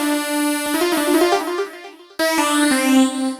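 Flanger instrument voice on an Android keyboard organ app, playing a few bright sustained synth notes with a sweeping, whooshing shimmer that rises over each held tone, with no talking.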